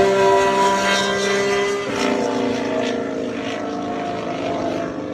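Alpine Formula 1 car running a Mercedes turbo hybrid power unit, a steady high-pitched droning engine note with layered harmonics, loud and sustained throughout with a slight shift in pitch midway.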